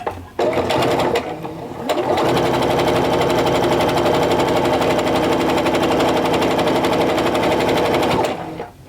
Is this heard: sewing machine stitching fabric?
yes